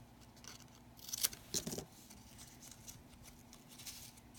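Scissors trim small pieces of stamped card paper in a few quick, crisp snips close by, a short cluster of cuts followed by quiet rustling.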